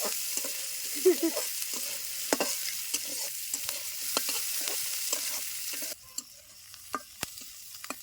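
Cumin, ginger and garlic paste crackle and sizzle in hot oil in a pan for a biryani made with Eid sacrifice meat, a soft steady frying hiss broken by clinks of stirring, close and unaccompanied by talk.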